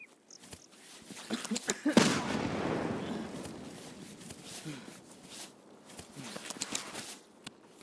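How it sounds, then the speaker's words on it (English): A grenade blast in the shooter Escape from Tarkov lands as one loud, close burst, followed by a long decaying rumble. Scattered gunfire, footsteps and background noise continue around it. "Here comes a grenade."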